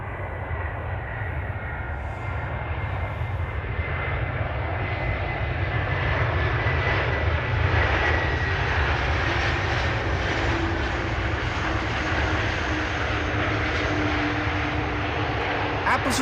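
Airliner landing at Amsterdam Schiphol with thrust reversers deployed, a continuous low engine rumble that rises into a louder rushing roar midway and stays strong, heard at a distance with faint voices underneath.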